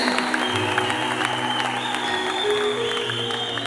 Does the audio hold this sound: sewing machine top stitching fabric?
no